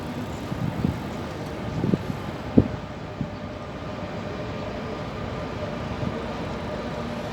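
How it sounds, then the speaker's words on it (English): A train bound for Magdeburg main station, with a Siemens Taurus locomotive at the rear, rolls past as a steady low rumble under wind, marked by a few faint metallic clicks and clanks near the start. "And there goes the train to Magdeburg main station"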